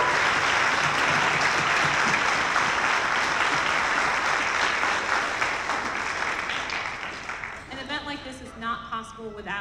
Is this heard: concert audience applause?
yes